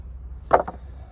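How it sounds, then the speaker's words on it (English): Pecan firewood splits on a chopping block with a single sharp crack and a short follow-up knock, close by and otherwise quiet. "Just keep splitting away, tiny little pieces."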